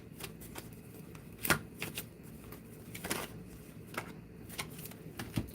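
Tarot cards are shuffled in a quiet room, giving soft riffling and flicking bursts with a few sharper snaps between low background hiss.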